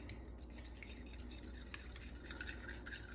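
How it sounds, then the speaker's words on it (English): Eggs being whisked by hand in a bowl on a kitchen countertop while making rustic pasta, a steady soft scraping and clinking that runs continuously and fairly quietly, close by, with no talking. "So once you get those eggs whisked in really good"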